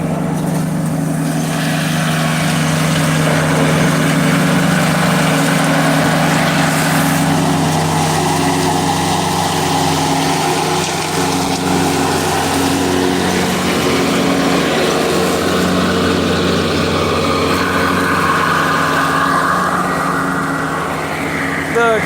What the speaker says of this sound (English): The Kubota there is the same tractor we actually used last year to cut our hay with.